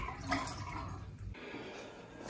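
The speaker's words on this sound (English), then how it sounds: "So this is what the water flow looks like without the aerator and the filter on it." Water pours from a kitchen faucet with its aerator and filter removed, a strong, close gush that hits the sink with dripping and splashing, louder at first and then settling into a steadier stream.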